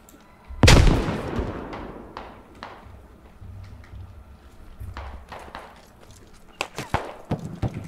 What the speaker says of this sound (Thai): ระเบิดเข้าไปแล้ว